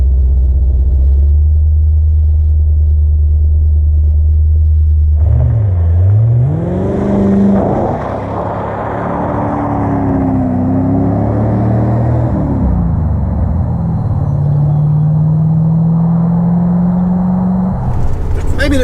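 1986 Corvette engine idling, then revving and rumbling loudly as the car backs out, with pitch rising and falling through gear and throttle changes; a voice speaks over parts of it.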